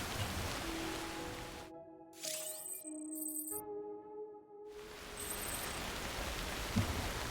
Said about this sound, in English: This damn rain won't quit.